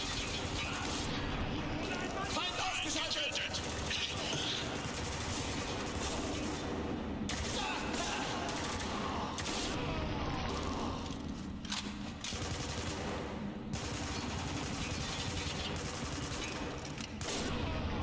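Sustained gunfire in the video game Spec Ops: The Line, including bursts from a UMP submachine gun, forms a dense, continuous barrage of overlapping shots and impacts for the whole stretch, with voices talking over it.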